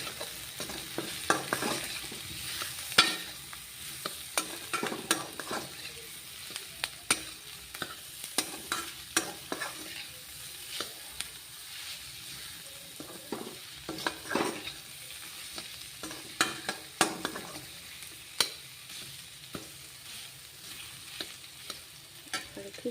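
Garlic paste frying in a pan for a paneer dish with raisins, with a steady soft sizzle broken by frequent clicks and scrapes of stirring, close and alone with no talk.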